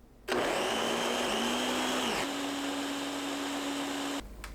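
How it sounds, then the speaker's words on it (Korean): A kitchen blender grinds beetroot with ginger juice into a fine purée, a loud steady motor whir running for about four seconds before cutting off abruptly. "생강즙 넣고 곱게 갈아줍니다."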